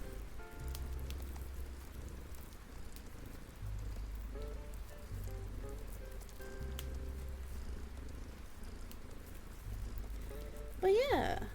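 Steady rain ambience layered with a low, purr-like cat rumble, soft city noise and a fireplace in a cozy lofi mix. It sounds continuous and even, with a brief louder burst near the end.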